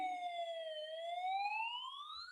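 A siren sound effect sweeps in one continuous wail, dipping then climbing in pitch, loud and alone with no talking.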